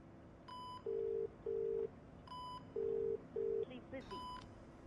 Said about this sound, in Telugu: ఒకసారి ఫోన్ ట్రై చేయి